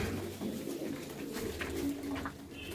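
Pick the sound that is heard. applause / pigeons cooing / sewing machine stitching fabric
pigeons cooing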